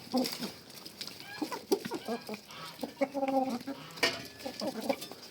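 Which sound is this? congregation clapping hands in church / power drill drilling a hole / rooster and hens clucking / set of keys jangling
rooster and hens clucking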